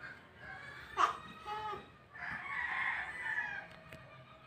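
Chickens in a farmyard, with a rooster crowing a drawn-out cock-a-doodle-doo at moderate distance, plus a brief sharp bird call before it over faint outdoor background.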